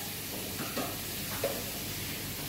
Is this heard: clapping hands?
no